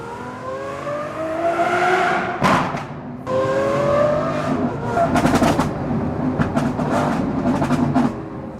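Lamborghini Revuelto with a 6.5-litre naturally aspirated V12 in BeamNG.drive, the engine revving and climbing through gears with brief breaks between shifts, loud and close throughout.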